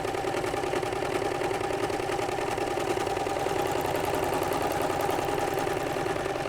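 An overlocker sewing machine stitches two pieces of fabric together, looping thread over the raw edge; a steady, close, motor-like whirr and rapid mechanical chatter runs continuously at an even level.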